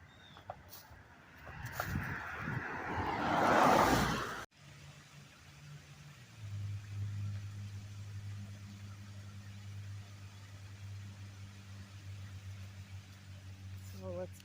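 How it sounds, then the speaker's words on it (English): One car passes on a quiet road near a trail and golf course, rising to a loud whoosh before cutting off abruptly, followed by a low steady mechanical hum. "here comes the one car"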